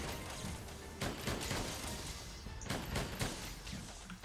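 Cannon fire in the video game Monster Hunter World comes as several quiet booming blasts and crashes at irregular intervals, faint and distant-sounding, with no talk over them.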